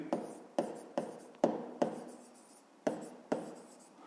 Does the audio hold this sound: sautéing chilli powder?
no